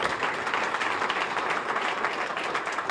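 A crowd applauds steadily at a ribbon cutting ceremony for the Weingart Center, dense continuous clapping filling the moment without pause, moderately distant and even in level.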